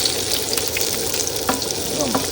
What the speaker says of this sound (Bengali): প্রথম খোলার মাছ কিন্তু ভাজা হয়ে গেছে এবার তুলে নেব